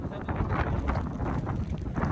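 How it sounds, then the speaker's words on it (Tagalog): Gusty wind in Canada buffets the microphone in a constant low rumble, with occasional faint voices underneath. "Lakas naman ng hangin."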